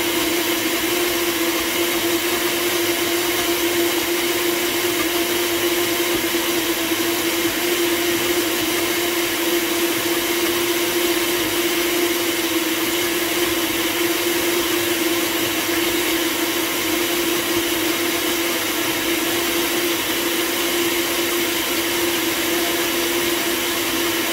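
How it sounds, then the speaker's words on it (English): A blender running on its highest setting while blending shower jelly, a loud, steady, unbroken motor whine with a constant hum, sounding alone throughout. "We're gonna give it another blend. I think I'm gonna just put it on the highest setting this time."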